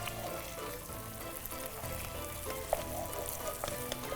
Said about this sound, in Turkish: salça güzelce kavurmazsa tadı ekşi olur yemeğin